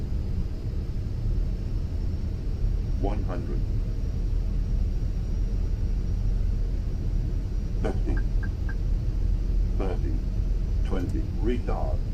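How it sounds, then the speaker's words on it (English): Fenix A320 thrust reversers in Microsoft Flight Simulator roar as a steady, loud, broad rumble throughout, with someone talking intermittently over it. "Oh man, reversers. Here's the reversers."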